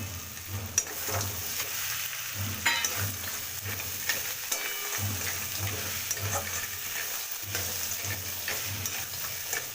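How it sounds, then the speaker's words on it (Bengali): Fried lentil dumplings stirred into sizzling poppy seed paste in a pan, with a constant frying hiss and repeated scraping and stirring strokes close by, no voices. "এবার আমি এতে ভেজে রাখা বড়িগুলো ছেড়ে দেবো।"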